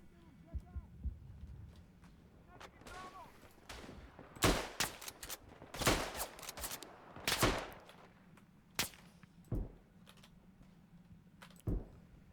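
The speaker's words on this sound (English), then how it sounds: "Precision Bulgarian shooting." Rifle fire in the World War I shooter Tannenberg, with a Bulgarian squad holding a line: sharp separate shots ring out, several loud and close, amid a low hum and scattered quieter reports, with no talk over them.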